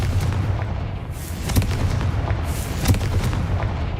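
Confringo fire spell blasts in Hogwarts Legacy, a couple of booming explosive bursts over a dense, rumbling game soundscape, loud and close, no talking.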